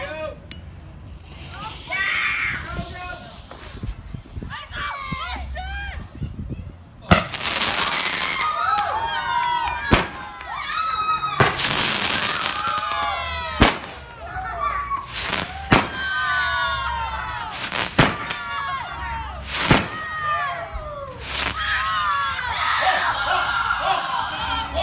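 A Toot N Twirl 7-shot twin twirl firework whistles and crackles outdoors at a church barbecue, with several sharp bursts and rising whistles over about twenty-five seconds while a crowd cheers and talks in the background.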